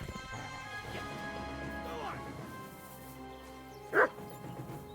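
A dog barks once in the medieval game Kingdom Come: Deliverance II, a single short, loud bark standing out near the end after a stretch of quieter game ambience and music.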